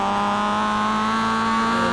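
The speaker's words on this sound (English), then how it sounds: "Listen to the downshift there." Race car at Sandown circuit blipping through a downshift, a loud, close engine note holding a steady pitch with buzzy harmonics over the short stretch.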